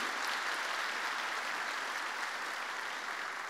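A church congregation applauds in a steady, even wash of clapping that holds at a moderate, slightly distant level throughout.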